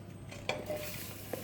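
Blackberries are tipped into a bowl, giving a couple of brief, soft clinks and taps against the bowl in an otherwise quiet kitchen.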